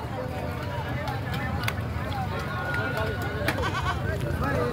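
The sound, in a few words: goat bleating at a goat market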